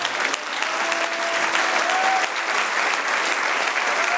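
A church congregation applauding the Lord during a sermon, with dense sustained clapping from a crowd that stays even and full throughout and a faint tonal hum running beneath.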